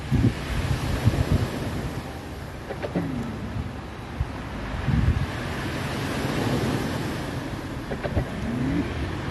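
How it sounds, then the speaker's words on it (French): Strong wind rumbling across the microphone in long surging gusts, sounding like roaring surf, loud and continuous with no talking. "Il y a un vent pas possible."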